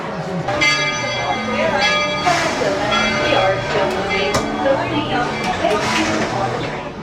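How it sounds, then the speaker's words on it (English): A bell rings repeatedly over the low rumble of a moving Disney park train, with people talking nearby. "Well, we're on the train."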